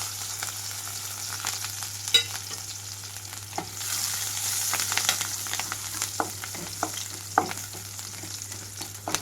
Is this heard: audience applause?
no